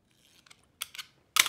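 Material being cut for a jewelry box, heard as a few short, crisp snips close by, quiet at first with the last cut the loudest, and no talking.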